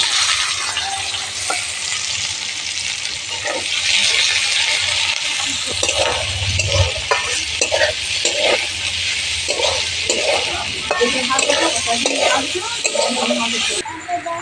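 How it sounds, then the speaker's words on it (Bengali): Onions fry in a pan with potatoes and ivy gourd, giving a loud, dense sizzling hiss up close. Repeated scraping stirs of a spatula run through it, and it cuts off near the end. "পেঁয়াজগুলো আলাদা করে না ভেজে নিয়ে আলু আর কুঁদরির সাথে ভেজে নেব।"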